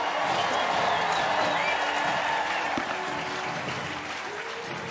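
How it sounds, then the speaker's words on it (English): Spectators lining the Rose Parade route cheer and clap as floats pass, a dense wash of applause with scattered whoops that fades slightly toward the end, while a voice talks faintly underneath. "I hope you can hear some of the crowds who are going crazy for all of these entries"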